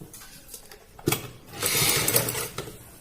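A sewing machine stitches salwar fabric up close, starting with a few short mechanical clicks and a sharp knock, then running a brief steady whirring burst before slowing to isolated clicks, with no talk.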